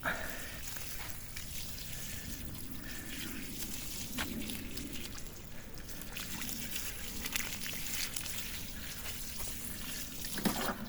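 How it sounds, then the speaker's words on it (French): Garden plants watered after stepping stones are set in a small secluded garden corner: a steady, continuous splash and trickle of water runs throughout at moderate level, with no talking. "Je vais les arroser."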